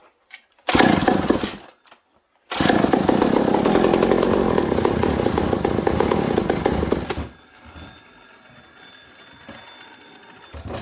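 McCulloch 1-71 chainsaw running after a carburetor rebuild: a short burst, a pause, then a loud, steady high-revving two-stroke whine for several seconds before dropping to a quieter idle, close by.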